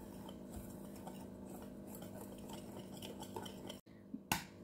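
Oat pancake batter being mixed in a bowl, a quiet continuous scraping and clinking of a spoon against the bowl, close by, with a brief pause and one sharper knock near the end.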